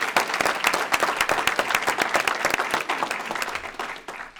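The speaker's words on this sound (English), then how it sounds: "So if we could give her a round of applause." At a school board meeting, a room full of people breaks into dense, continuous applause honoring award recipients; the clapping stays busy and close for several seconds before thinning slightly at the end.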